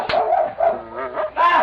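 Sled dogs yelp and whimper in a 1940s Yukon radio drama, a run of close, high cries with harmonic wails overlapping one another.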